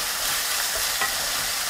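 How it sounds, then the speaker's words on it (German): Filled mashed potato cakes frying in a pan, giving a steady close sizzle with a faint soft clink partway through and no talking. "das kann dann vor sich hin brutzeln"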